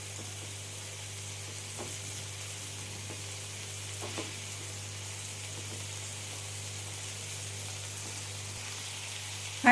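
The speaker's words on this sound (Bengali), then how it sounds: "ঠিক একইভাবে আমি উপর দিকটাও ভালো করে ভেজে নেব টিক্কাটা।" Green chicken tikka frying in oil in a pan, a soft, steady sizzle at low volume with a few faint ticks and no voices.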